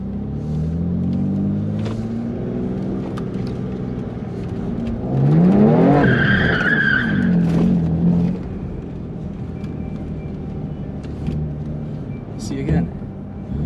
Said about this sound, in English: First time ever trying to do donuts in an empty parking lot.